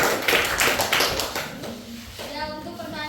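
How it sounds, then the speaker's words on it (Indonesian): Applause from a classroom audience after a group presentation, a burst of clapping that gradually thins out as a few voices come in near the end. "Beri tepuk tangannya."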